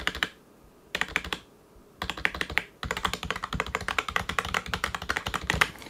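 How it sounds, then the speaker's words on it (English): Close typing on an ADX Firefight A04 gaming keyboard: bursts of muted clicks, a few short pauses early on, then a steady dense stream of keystrokes. "some of the keyboard noises so you can see what the reverb and things like that are like"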